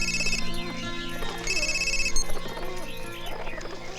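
A telephone rings with a repeating electronic trill, loud and close, the ringing pattern cycling several times without any talking.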